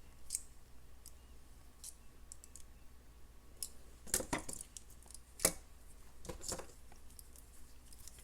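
Jewelry pliers wrapping wire into a loop make soft scattered metallic clicks and taps, a few sharper snaps clustered in the middle, faint and close in a quiet room.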